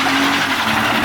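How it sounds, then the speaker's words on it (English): BMW E46 engine held at full throttle on full steering lock while doing a donut, a loud, steady, close roar with no break across its brief length. "Literally just needs to be on full throttle the whole way and just be on full lock and it'll just donut"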